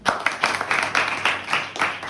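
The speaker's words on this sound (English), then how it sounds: "Yes, clapping everyone." A classroom of students claps together in a brief burst of rapid, rhythmic hand claps, close and fairly loud with no talking over it.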